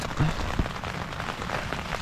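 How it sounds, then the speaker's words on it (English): Hard wind drives rain against a large tent's rain fly while camping on a solo Scotland hike, making a steady close rustling patter with a couple of brief flapping bumps near the start. "The wind is blowing really hard up against this big side of the tent and pushing the rain fly up against the inside of the tent."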